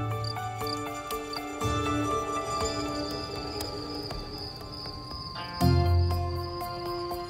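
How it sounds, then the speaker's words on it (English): A shy field cricket sings in a countryside meadow on a summer night, a steady high chirping that carries throughout, layered with other soft, ongoing tones. "The shy field cricket is famous for its music."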